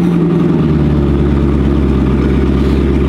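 A car engine idles steadily with a deep, throaty rumble, loud and close, holding an even tone throughout.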